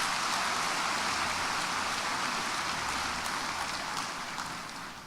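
A church congregation applauds, giving steady, dense clapping that sounds like heavy rain, holding level and then tapering slightly at the end.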